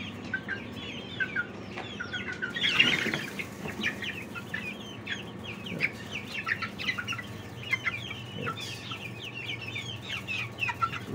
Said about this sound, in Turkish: Ufak horozların arasında daha şimdiden gövde gösterisi var.